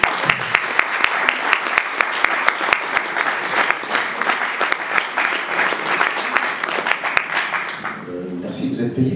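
Studio audience applauds to welcome comedian Pascal Légitimus at L'autre Festival 2023, with steady dense clapping through most of the stretch before it fades near the end.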